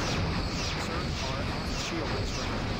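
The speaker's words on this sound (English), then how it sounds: "They're still firing quantum torpedoes" Quantum torpedoes firing in a Star Trek ship battle video game, with Starfleet and Klingon ships: a dense, rumbling barrage of booming bursts that runs unbroken throughout while a voice talks over it.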